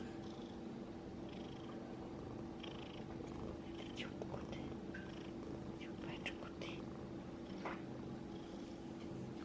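A house cat in a home in Canada purrs steadily and softly throughout, a continuous low rumbling close by, with faint quiet speech and small rustles over it.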